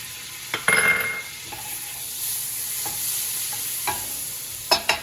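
Garlic sizzling in a hot pan after making a pork chop mushroom vodka sauce, a soft steady hiss with a few louder bursts and occasional utensil scrapes, close by.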